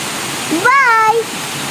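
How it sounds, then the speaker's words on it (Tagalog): Sangbay ni Ragsak Falls rushes as a steady, hissing waterfall roar, with a brief voice rising over it for a moment in the middle. "Sangbay ni Ragsak Falls, which when translated to English means the waterfalls of happiness"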